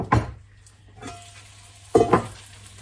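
Garlic salmon frying in a pan is stirred with sweet potato nearby, giving two short bursts of scraping and sizzling about two seconds apart over a steady low hiss of cooking.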